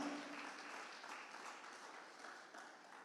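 Applause from a church congregation during a sermon on the gifts of God's grace, a soft, steady wash of clapping that stays fairly faint and even for about three seconds.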